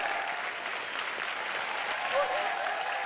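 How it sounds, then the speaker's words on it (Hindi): A studio audience at a comedy show gives steady, full applause for the whole stretch, with a voice faintly audible beneath it. "जोरदार तालियां सुरवीन और शक्ति जी के लिए।"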